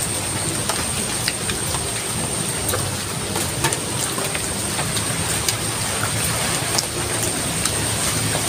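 Steady rain falls continuously, with a dense hiss and scattered close drips landing on a surface, in a rural Philippine outdoor kitchen.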